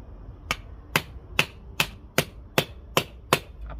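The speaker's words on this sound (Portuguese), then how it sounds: "Vamos bater esse prego aqui, ó." A nail is struck with a 9-in-1 multifunction tool, eight sharp metallic taps in a steady, even rhythm at close range, with no voices.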